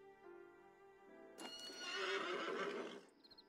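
A horse in the open-world western game Red Dead Redemption 2 gives a loud, close whinny that rises and trembles for over a second, with light hoof clops trailing off at the end.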